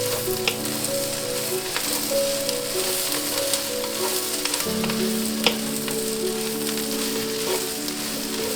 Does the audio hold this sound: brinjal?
yes